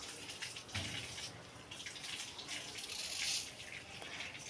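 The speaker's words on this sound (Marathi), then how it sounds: "फक्त पाणी सोडून द्यायचं" Water pours steadily into a plant pot through a stuck-in container, a continuous low splashing and trickling that swells slightly in the middle and holds to the end.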